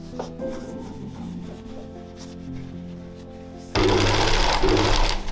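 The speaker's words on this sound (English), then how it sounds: "Both pieces are then laid on top of each other and sewn together on both sides of the opening." A sewing machine stitches two layered fabric pieces of a Bridgerton-inspired dress, a steady mechanical whir that grows suddenly louder and harsher partway through, running alone without talk.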